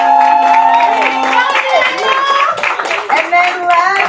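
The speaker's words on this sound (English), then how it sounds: "Y'all clap it up for Daniel!" An audience at a slam poetry send-off claps loudly for a poet, a dense burst of applause with some cheers while a host keeps talking over it.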